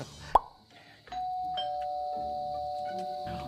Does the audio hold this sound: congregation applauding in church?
no